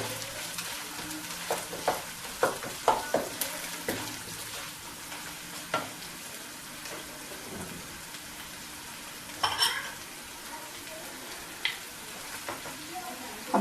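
Mutton liver masala frying with ginger, garlic, tomatoes and spices, a steady close sizzle broken by scattered stirring scrapes and clinks of a spoon against the pan.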